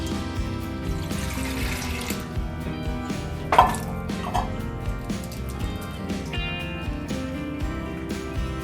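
Water runs from a kitchen tap in brief gushes as soaked soya chunks are put into cool water, with light clinks of dishes and utensils nearby.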